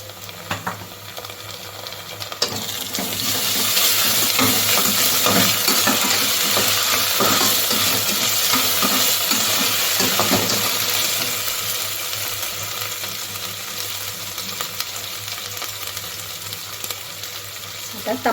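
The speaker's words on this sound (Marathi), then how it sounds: "आता आपण त्याच्यात लसूण अद्रकची पेस्ट घालूया" Browned onion fries with ginger-garlic paste being stirred in for khichdi, a dense sizzle that swells loud after an initial clatter, holds steady, then eases off with a few utensil knocks near the end, no talk.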